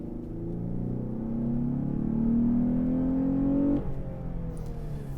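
A 2020 Lexus GS 350 engine revs above 2,000 RPM in a loud, continuous rising drone, then drops off abruptly near the end, settling into a lower hum.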